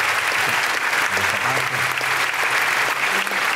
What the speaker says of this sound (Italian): meritano davvero un grande applauso